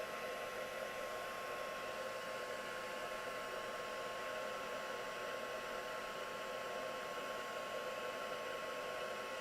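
A heat tool blows continuously to melt and set clear embossing powder on a papercraft piece, a steady, even hair-dryer-like whoosh and hum with no pauses or talking.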